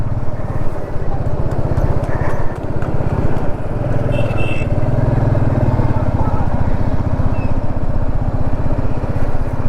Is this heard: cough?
no